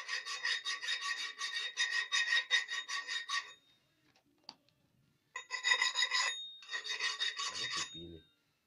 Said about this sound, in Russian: Хочу показать, как точу на болгарке топор советского производства